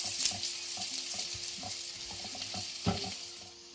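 Chopped onion frying in oil in a pan for tadka dal, with a soft continuous sizzle under repeated scraping and stirring knocks, one louder clatter near the end, all fairly quiet and close.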